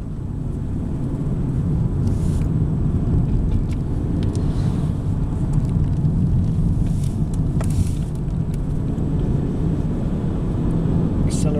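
A Vauxhall Astra running on LPG dual fuel pulls away smoothly in second gear, its steady engine drone and road rumble continuous and fairly loud from inside the cabin.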